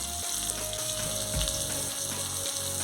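Fish pieces fry in hot oil in a pan with a steady, close sizzle and crackle, plus a few soft pops and knocks from the pan throughout.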